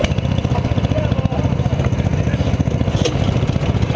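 A kart engine runs steadily during race qualifying with a buzzing, rattling drone, close by and fairly loud, with voices talking over it.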